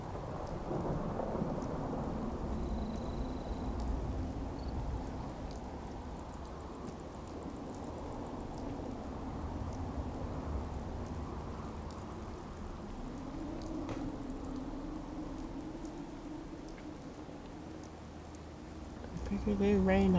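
Steady rain with low rolling thunder in the open world of the video game Fallout 4, a continuous soft downpour with a long rumble building, plus faint voice under the storm.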